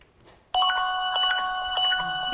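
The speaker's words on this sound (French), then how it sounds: "Putain, le téléphone, quoi." A telephone bell starts ringing abruptly after a half-second of near silence, loud and close, a continuous bright electronic trill sustained to the end, with no talk over it.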